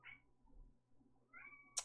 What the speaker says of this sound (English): hi, kitty